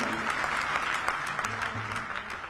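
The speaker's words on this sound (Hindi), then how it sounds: "जरा ताली बजाकर मोदी जी का भी अभिनंदन करें।" Sustained applause from an audience at a political gathering, dense clapping with a voice speaking faintly underneath.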